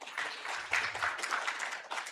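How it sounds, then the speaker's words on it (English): An audience gives a brief, lively round of applause for a panel, the clapping dense and fairly close, with a faint voice or cheer briefly mixed in. "We need a bigger round of applause for all the panelists."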